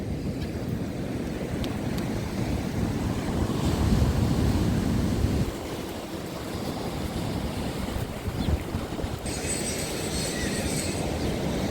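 Sea waves wash along the Odesa shore after a snowstorm, a steady broad roar of surf with wind noise, fairly loud and continuous throughout.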